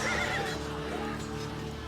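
A horse whinnies loudly in a drama set at Karbala; a sharp, high neigh rises at the very start, then fades into a low, rumbling mix of ambient sound.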